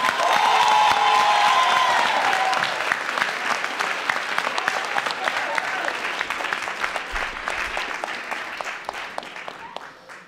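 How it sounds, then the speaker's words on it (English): An audience at a debating match between ENS and École alsacienne breaks into loud, dense applause with some cheering, which thins gradually into scattered claps over about ten seconds. "please give a huge round of applause to Mr. Declan McKavanagh."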